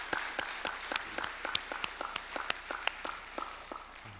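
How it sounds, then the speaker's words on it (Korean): A church congregation claps together in a warm round of applause, many hands producing dense, evenly spread claps at moderate distance that hold steady for several seconds, then begin to thin out. "한번 여러분 박수로 한번 격려해 주면 좋을 것 같아요."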